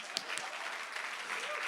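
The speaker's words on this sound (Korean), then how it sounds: "오늘 찬양팀 박수 한번 주세요." A congregation at a joint Sunday worship service applauds the worship team, a brief, dense burst of steady clapping from a crowd filling the room.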